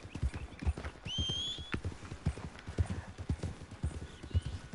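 Horse hooves clip-clopping in Red Dead Redemption 2 make a steady, close, loud rhythm of clustered strikes, with a brief whinny-like tone partway through.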